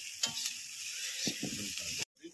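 Poha sizzles in a pan over a wood-fired chulha stove, a faint steady frying hiss with a few scraping stirs and clinks, close by, then abruptly cut off near the end.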